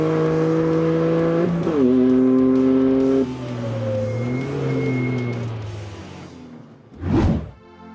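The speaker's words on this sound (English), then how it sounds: "The GR Corolla, albeit quite a modified GR Cup version, used its better tyres, brakes and suspension to help it cross the line first." Modified Toyota GR Corolla GR Cup race car on a racetrack, engine revving loudly and climbing through gear changes before a close whoosh as it passes by.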